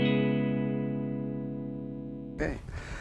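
An electric guitar set very clean through an amplifier rings out as a sustained chord that slowly decays, then a fresh noisy attack cuts in near the end.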